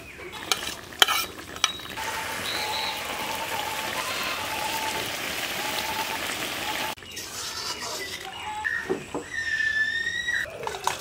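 Fish added to bubbling vegetable curry in a street-food pan, giving a steady loud sizzle and hiss with stirring clatter, then a sharp change to lighter bubbling, with no talk.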